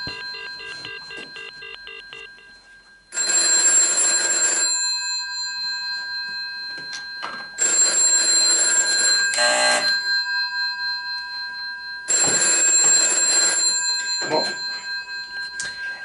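Telephone bell on an old Ericsson telephone switchboard rings loudly in three long bursts, separated by short pauses, with a brief beeping pattern at the start.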